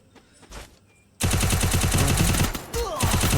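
Rapid automatic fire from a UMP submachine gun in the mobile battle game Free Fire bursts in suddenly after a quiet start, a loud sustained rattle of close shots with a short break near the end.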